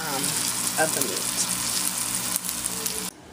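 Beef pot roast browning in a hot pan gives a loud, steady sizzle that holds close and even, then cuts off abruptly just before the end.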